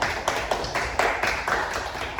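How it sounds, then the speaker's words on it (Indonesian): A classroom of students applauds a classmate during a science lesson, a dense, steady wash of many hands clapping close by, with a loose rhythmic pulse running through it. "Beri tepuk tangan buat Mbak Nanda"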